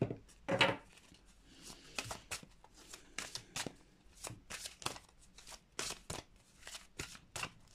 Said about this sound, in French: Tirer une carte avec celui-là pour les artisans de lumière